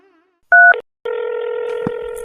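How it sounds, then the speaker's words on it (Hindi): A telephone number is dialed, with a short keypad tone followed by a longer steady ringing tone, close and clear, in a quiet room. "जीते का फोन लगाता हूँ।"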